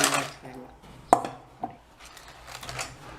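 A crispy dry fenugreek-leaf snack being snapped apart close by, a few sharp brittle cracks spread across a quiet background with faint rustling.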